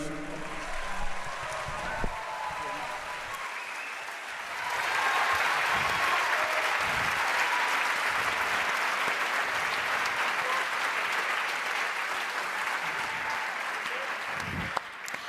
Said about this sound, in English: Another round of applause for Adama.